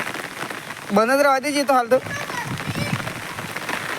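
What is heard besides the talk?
rain falling with strong wind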